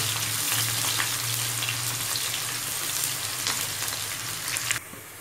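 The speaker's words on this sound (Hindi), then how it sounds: "ये देखिए तेल अच्छे से गर्म हो गया है हम इसे प्याज ऐड करेंगे" Onions sizzle in hot oil during a Hyderabadi green chicken recipe, a dense, even frying hiss that stays loud and close before cutting off abruptly near the end.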